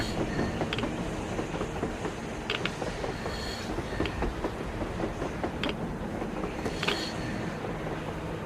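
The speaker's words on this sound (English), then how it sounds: "A train! A damn train on the surface!" A train in the video game Metro Exodus rolls past with continuous rumbling and rhythmic clattering wheels, occasional metallic clanks and squeaks over the steady noise.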